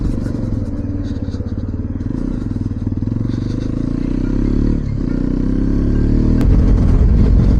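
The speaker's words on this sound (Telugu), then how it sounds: "ఆఫ్ రోడింగ్లో కూడా చాలా స్మూత్గా వెళ్తుంది, అసలు స్లిప్ అవుతలేదు బండి" 2025 Hero Xpulse 210 motorcycle ridden off-road, its engine throbbing steadily at close range with clattering and scraping from the rough ground.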